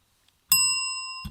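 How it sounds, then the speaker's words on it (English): A single loud bell struck once at a fall cars and coffee gathering, ringing out with a bright metallic tone that sustains and slowly fades, cut off by another strike at the end. "Oh, that was a loud bell."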